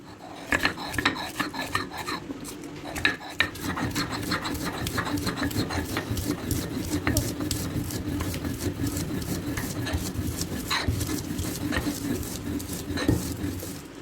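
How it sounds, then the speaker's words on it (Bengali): Dried red chilies being ground by hand on a flat stone slab (pata) with a grinding stone, a steady continuous scraping rub with repeated gritty strokes, close and fairly loud, with a few sharp knocks near the start. "প্রথমে আমি শুকনো মরিচগুলো ভালো করে বেটে নিব"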